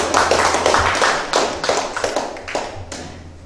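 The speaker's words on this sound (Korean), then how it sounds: "여러분 한 박수 한번 쳐주시죠" Audience claps at a Presbyterian church service launching an anniversary committee, in a short burst of uneven, close hand claps with a few distinct heavy taps.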